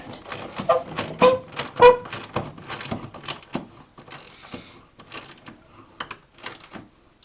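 Bolts on a crashed Honda being snugged down by hand tool, heard as close, irregular mechanical clicks and ratcheting scrapes with brief pauses between bursts.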